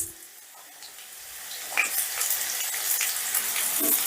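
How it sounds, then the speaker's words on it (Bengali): Cut beans and carrots frying in a pan for mixed fried rice, a soft steady sizzle with occasional stirring clinks, close and moderately quiet throughout. "এবার বিনস আর গাজরটাকেও একটু ভাজা ভাজা করে নেব"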